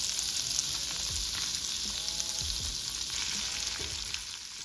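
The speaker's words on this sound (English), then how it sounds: "I went ahead and thawed out some salmon and put that in the cast iron with a little vegan butter and seasoning." Thawed salmon frying in a cast iron pan with a little vegan butter and seasoning: a close, constant sizzling hiss runs the whole time, with a few soft low thumps and faint chirps.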